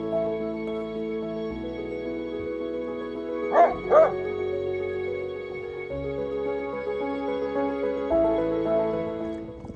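Two loud barks from a Great Pyrenees dog in quick succession rise above a sustained musical background, with the music continuing on after them.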